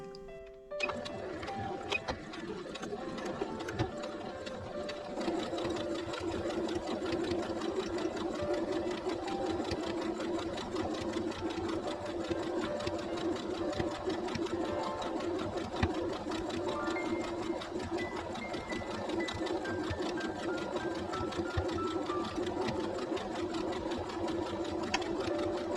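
Sewing machine stitching a patchwork hexagon handbag, running in a steady, continuous rapid whir for the whole stretch at a moderate, even level, with no voices.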